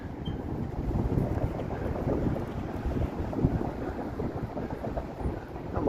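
Wind on a cold, blustery March evening in downtown Toronto buffets and rumbles continuously across the microphone in low, gusting surges.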